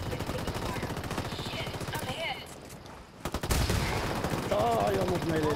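Rapid automatic gunfire in the video game Ghost Recon Wildlands, bursts of shots in quick rhythmic succession, a brief lull, then another loud volley, with game sounds and a voice talking alongside.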